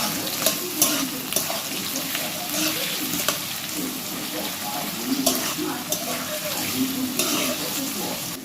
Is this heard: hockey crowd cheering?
no